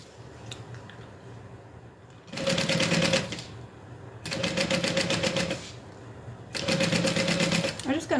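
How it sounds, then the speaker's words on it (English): Sewing machine stitching a zipper along the curved edge of a backpack panel, running in three steady bursts of rapid, even needle chatter separated by short pauses, close and fairly loud. "We're going to sew our zipper down the curved edge"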